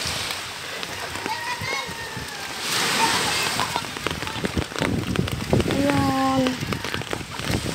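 Sea water washes and sloshes at the shore in a broad, hissing surge that swells midway. Voices talk over it, with a few high calls rising above the water.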